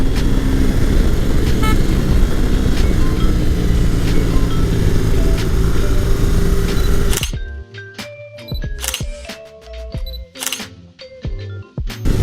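A BMW R18 B motorcycle riding through mountain roads, with a loud, steady roar of engine and rushing wind for about seven seconds, then a sudden drop to quieter, scattered clicks and knocks.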